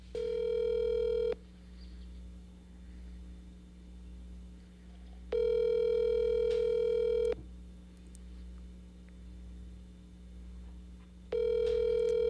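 Outgoing telephone call ringing out, with three loud electronic ring tones spaced several seconds apart over a low steady hum, no voices.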